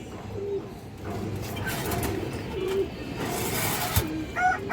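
A lively pigeon at a Bangladeshi pigeon sale gives a few soft low coos over steady market noise and shuffling, close and fairly faint.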